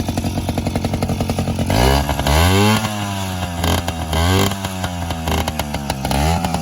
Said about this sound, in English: So Jayce, give it a kick to see if it fires back up